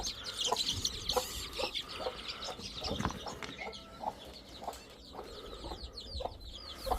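A hen clucking among small chicks in a garden, with a run of short, uneven clucks close by and faint high peeps and brief rustles in between.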